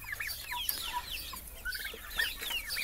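Turkeys clucking and calling in a poultry shed, several birds giving short, overlapping clucks and chirps at moderate distance against a low steady hum.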